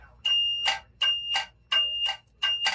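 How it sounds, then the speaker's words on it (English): A boat's bilge high water alarm beeps in four evenly spaced bursts, each a piercing high-pitched double tone, loud and close with short silences between. "High water alarm check."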